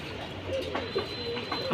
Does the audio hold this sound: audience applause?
no